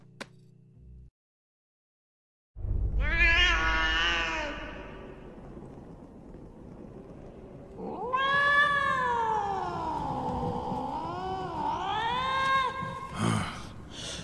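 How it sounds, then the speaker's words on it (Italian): An angry cartoon cat in a Puss in Boots scene gives long, loud, wavering yowls and caterwauls, with a short hiss-like burst near the end and no talking. "Avete fatto arrabbiare il gatto. Non vi conviene far arrabbiare il gatto!"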